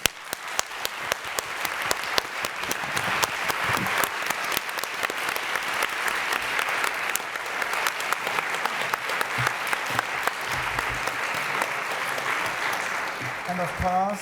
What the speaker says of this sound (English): please give them a huge applause.